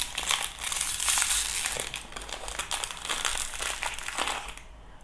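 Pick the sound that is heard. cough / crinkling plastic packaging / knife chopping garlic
crinkling plastic packaging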